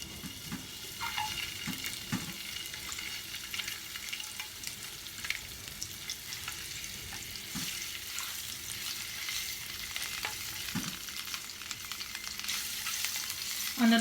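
Halved boiled eggs frying in oil in a pan on a low flame for dhaba-style egg curry, a continuous soft crackling sizzle with occasional stirring scrapes, with no talking.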